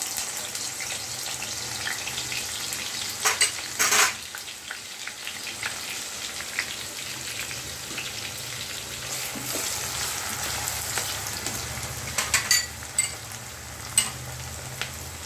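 Three chopped onions frying in coconut oil in a pan for a Kerala-style chicken curry: a steady soft sizzle and hiss, with a few sharper clinks and scrapes of stirring, fairly quiet.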